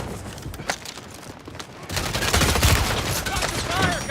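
Bursts of gunfire in the video game Warzone, rapid automatic shots clustered into a loud sustained volley in the second half, with a quieter shot or two before it and voices faintly mixed in.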